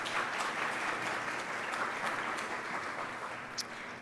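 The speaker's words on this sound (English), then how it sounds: "Big round of applause." An audience at a talk on the gender data gap gives a full round of applause, a dense and even wash of many hands clapping that holds steady throughout with no voices over it.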